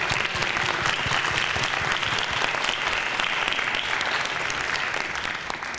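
Steady, dense applause from a school theater audience fills the room, loud and continuous without any break.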